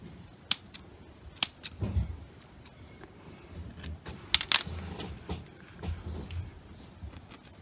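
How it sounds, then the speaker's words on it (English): Scissors snipping felting wool on a needle-felted Highland cow figure, heard as a few sharp, close clicks and snips spread across a quiet background with no talking. "and then I'm just going to cut that off."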